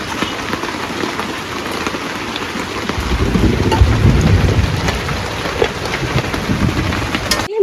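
Rain falling outside with a deep roll of thunder swelling midway, a continuous downpour hiss underneath a low rumble, no voices present.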